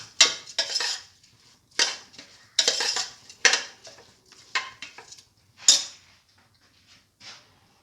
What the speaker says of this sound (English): Now mix in the rice